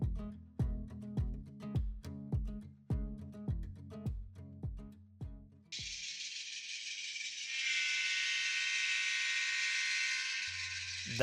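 A model railroad train runs on a home layout, giving a steady series of rhythmic clacking rattles, then a continuous hissing, whirring tone, close and fairly quiet.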